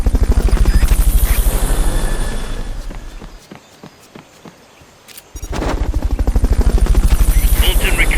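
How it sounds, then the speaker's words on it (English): A rescue helicopter in Metal Gear Solid Peace Walker during a Fulton recovery, its loud rotor chop pulsing steadily, fading out in the middle and then swelling back, with sharp gunfire-like cracks mixed in. "Fulton recovery helicopter is complete."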